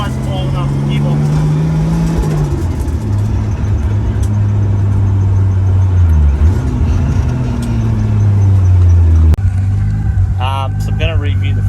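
A Nissan R31 station wagon drives with a steady engine drone that rises and falls as it shifts, accompanied by road and wind noise throughout.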